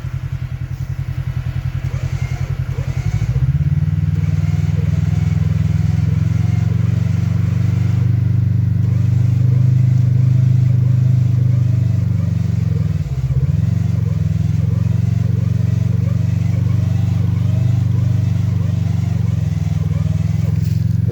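A side-by-side UTV engine drones and revs loudly and steadily as its wheels spin in creek mud, with a brief dip in the roar partway through.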